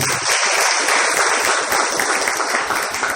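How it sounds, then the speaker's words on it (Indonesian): A church congregation applauding at a Sunday service, dense steady clapping from many hands filling the room, loud and close throughout with no talk over it. "Tepuk tangan untuk Bapak kita."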